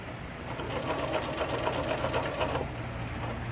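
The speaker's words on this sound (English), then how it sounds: "there's a couple more stitches there because again, I'm coming away from where the two fabrics were meeting" A sewing machine runs steadily up close, stitching fabric where two pieces meet, a rapid even mechanical whir with a faint hum continuing after the stitching stops.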